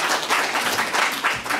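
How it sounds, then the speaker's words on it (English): An audience applauds a guest called to the front at a talk on Black life in the Netherlands, a brief burst of moderately loud, steady clapping with no voices. "big round of applause for Alex."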